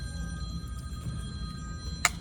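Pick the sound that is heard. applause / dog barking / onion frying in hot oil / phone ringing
phone ringing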